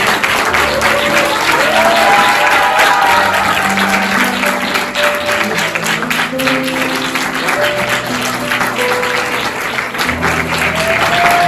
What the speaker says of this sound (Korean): 그 어떤 박수보다 더 큰 박수 부탁드립니다